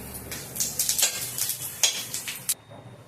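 Sesame seeds hit hot oil in a pan with roasting peanuts: a close, crackling sizzle in uneven bursts, with a few faint clinks of a utensil, then an abrupt stop.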